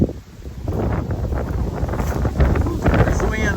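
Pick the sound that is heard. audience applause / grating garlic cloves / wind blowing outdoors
wind blowing outdoors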